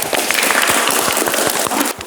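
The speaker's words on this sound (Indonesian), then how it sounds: "Kita berikan tepuk tangan untuk Mas Gangsar" Classroom applause for a student in an automotive lesson: brief, loud, close clapping from a small group, with individual claps distinct, fading out at the end.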